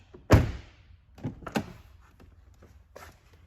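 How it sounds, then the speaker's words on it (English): A Chevrolet Traverse car door closes with one sharp, close thunk, followed by lighter latch clicks and a second softer thump as it is opened and shut again, with a faint tap near the end. "we're gonna go ahead and close and open the door just to light up the dash"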